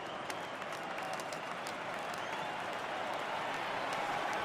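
Crowd noise in a baseball video game, MLB 2021, during an Astros vs Mariners ALDS playoff game on PS4, rising for a full count: a steady, distant wash of cheering and applause that holds throughout at a faint, even level.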